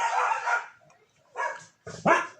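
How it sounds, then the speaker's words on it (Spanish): Neighbours' small dogs bark nearby in a few sharp, separate bursts with brief pauses between them, loud and clear with no talk over them. "Esos son los perritos de mis vecinos, no son los míos."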